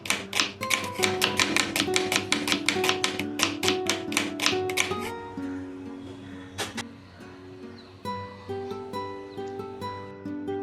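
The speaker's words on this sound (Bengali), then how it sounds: "পেঁয়াজটা আমি কুচিয়ে নিচ্ছি।" A knife chops through two large onions on a board, sharp rapid taps in quick bursts, dense at first then slower and more spaced, close and clear with no talk.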